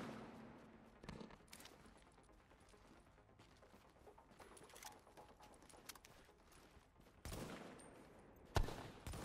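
Rapid bursts of gunfire from the video game The Division crackle out in quick volleys, with a few sharper, louder shots near the end, and no talking over them.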